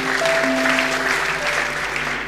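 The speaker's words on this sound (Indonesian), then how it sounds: "Kita beri tepuk tangan untuk kebenaran ini." A church congregation at a Sunday worship service breaks into brief, dense applause, a steady wash of many hands clapping filling the room for a couple of seconds.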